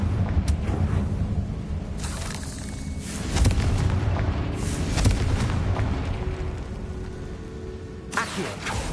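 A Confringo spell explodes in Hogwarts Legacy as a muffled boom, followed by rumbling bursts over a low, continuous background din.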